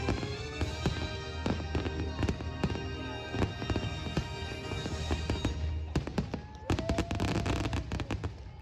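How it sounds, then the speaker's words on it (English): Fireworks burst repeatedly over a Los Angeles theme park in a dense, uneven barrage of booms and crackles, heard from a distance over a constant low crowd rumble. "we were pretty much right in time for the fireworks."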